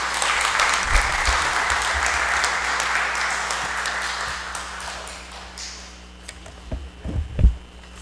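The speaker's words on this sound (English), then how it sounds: "Let's give him a big round of applause for joining us today." At a parliamentary conference opening, an audience applauds with dense, sustained clapping that fades out after about five seconds, followed by a few scattered knocks and low thumps.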